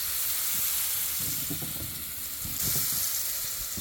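Fish frying in hot coconut oil, a loud continuous sizzle and hiss with bursts of crackle and steam throughout, close up with no talking.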